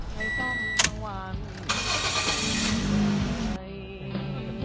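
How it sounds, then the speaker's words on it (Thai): A 2014 Toyota Yaris engine cranks and catches, a short whirring start settling into a steady idle, close by, with someone talking over it. "หลังจากนั้นให้เราสตาร์ทเครื่องยนต์ครับ"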